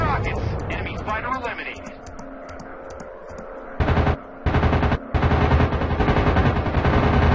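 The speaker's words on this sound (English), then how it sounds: "Firing rockets." Rockets and guns fire in a WW2 dogfight video game, Warplanes, as a loud sustained burst of rapid shots with short gaps, overlaid by game voices, engine drone and radio chatter.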